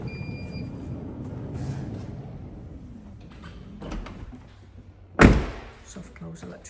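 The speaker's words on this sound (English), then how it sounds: "Soft close electric door." A soft-close electric sliding side door on a 2024 Volkswagen Transporter T6.1 Highline Kombi van glides along, then shuts with a single firm thunk near the end, amid quiet background murmur.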